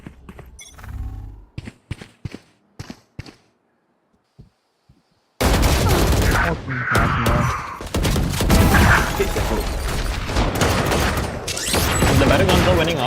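Gunfire in a Valorant esports match, with scattered sharp single shots at first, then after a brief quiet a dense, loud burst of rapid automatic fire and impacts mixed with game sounds.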